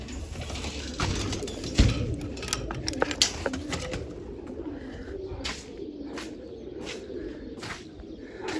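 Pigeons coo softly around a coop, low murmuring calls mixed with scattered chirps and sharp clicks and taps, while a voice is heard now and then.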